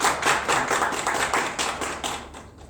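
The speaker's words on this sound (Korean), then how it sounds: "박수 맞아주세요." Audience applause welcoming a pianist onto the stage at an arts school lecture: steady dense clapping throughout, fairly close and loud, tapering slightly at the end.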